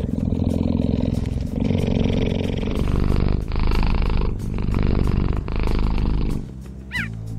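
A cheetah purrs in a deep, steady, rumbling rhythm of long loud pulses, close and continuous with brief breaths between, alone without speech, ending with a faint higher chirp.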